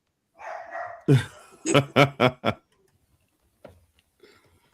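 A dog barking indoors, a quick run of four or five sharp close barks after a brief vocal whine, followed by a couple of faint softer yips.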